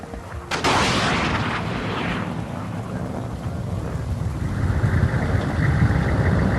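Units in the strategy game WARNO fire on an enemy position: one loud blast sets off a long rumbling roar of battle noise, which swells into a dense rushing wash toward the end.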